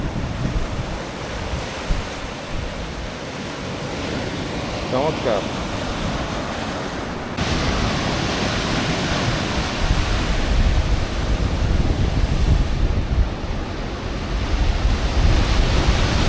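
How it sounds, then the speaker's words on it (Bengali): Rough sea waves crash and roar onto a beach in Cyprus in a constant, loud surge, with wind buffeting the microphone and a person speaking briefly over the surf. "সমুদ্র যে পরিমাণ উত্তাল"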